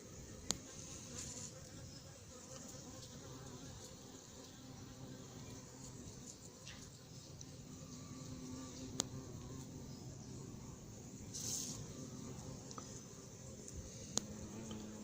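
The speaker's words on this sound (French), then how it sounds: "Frelon, il explore, il explore, il explore." A hornet flies around a beehive at an apiary, its faint, steady buzz droning throughout amid the hum of other insects, with a brief louder pass near the end.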